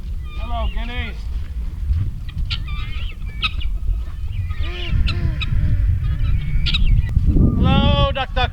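Guinea fowl call repeatedly on a homestead with harsh, honking cries in short rhythmic bursts, nearby and fairly loud, over a constant low background rumble, while a person speaks at times.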